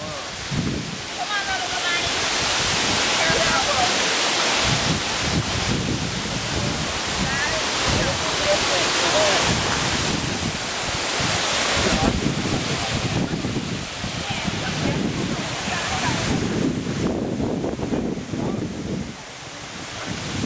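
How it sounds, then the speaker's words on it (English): Wli Waterfalls in Ghana's Volta Region send down a loud, steady roar of falling water that fills the whole scene, with wind buffeting the microphone and people talking beneath it. "It's an incredible waterfall."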